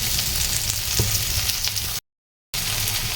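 Garlic, onion and tomato sauté in a pan with a steady, loud broadband sizzle and a few stirring clinks, broken by a brief half-second gap of silence before the frying resumes.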